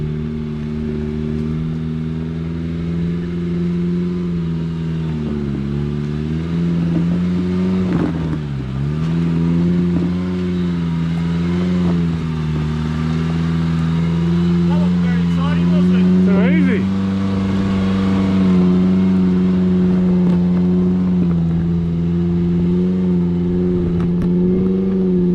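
A turbocharged LS-engined Toyota Hilux 4x4 labours up a steep hill climb, its V8 droning steadily at low revs with a brief dip and rise in pitch, loud and close throughout.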